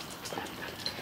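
A foster dog gives soft, brief whimpers over a busy, noisy indoor background.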